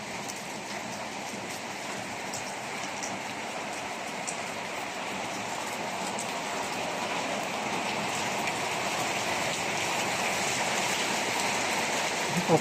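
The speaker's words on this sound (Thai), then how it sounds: "ถ่ายให้ดูบรรยากาศ ฝนตกครับ" Steady rain falls continuously, a dense hiss of drops on surfaces all around, growing slightly louder over time with no voices.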